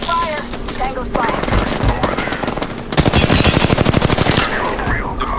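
Rapid automatic gunfire from an enemy squad in the Apex Legends battle royale, loud and close in dense bursts that swell into a sustained volley, with game sounds mixed in.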